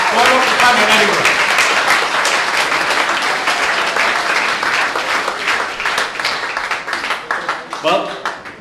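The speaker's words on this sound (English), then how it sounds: "ladies and gentlemen. A round of applause." Loud crowd applause at the UK finals of the World Chocolate Masters 2017 as placings are announced, sustained clapping and cheering with a speaker's voice carrying over it at the start, then fading and thinning toward the end.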